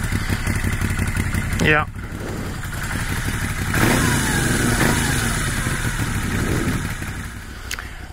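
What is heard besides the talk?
Moto Guzzi V7 Stornello V2 motorcycle engine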